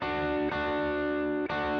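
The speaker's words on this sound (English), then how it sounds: "And then I doubled that with a higher guitar part, panned it right." A higher electric guitar part doubling the chords in an indie folk arrangement: sustained, effected chords ringing steadily, with two fresh strums about a second apart and no voices.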